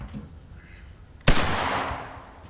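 A single loud 12 gauge shotgun blast firing a 2-4-6 bismuth shotshell through a factory improved modified choke outdoors, with a sharp crack and a long echoing tail after a quiet lead-in.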